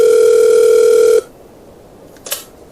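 A telephone dial tone hums steadily and loudly for about a second, then cuts off, followed by quiet line hiss and a faint click.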